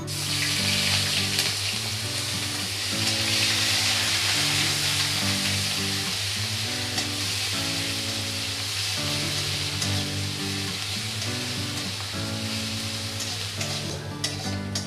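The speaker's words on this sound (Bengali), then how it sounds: "এবার আমি বেটে রাখা আদা পেঁয়াজের পেস্টটা দিয়ে ভালো করে ভেজে নেব" Ginger-onion paste frying in a pan for a Bengali pomfret jhal, a continuous dense sizzle with stirring over a steady hum, and faint musical tones underneath throughout.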